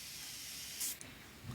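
A vintage Dior Eau Sauvage perfume atomizer gives a faint, steady airy hiss of spray, then one brighter burst near the end before trailing off into quiet.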